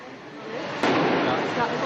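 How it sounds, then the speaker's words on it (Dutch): Police throw grenades into a house during a raid; one sharp bang cuts through the background, followed by sustained noisy rumble. "De agenten gooien granaten in het huis. Er zijn verschillende knallen en er stijgt rook op."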